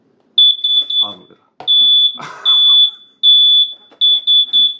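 Loud, shrill electronic beeping from a water leak detector alarm, in bursts of rapid repeated beeps with short gaps, with people talking and reacting between the bursts.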